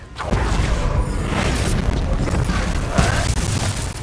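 A fire-blasting Confringo spell explodes in the Hogwarts Legacy video game, a loud booming burst over a dense, continuous rumble of combat noise with further thuds layered in.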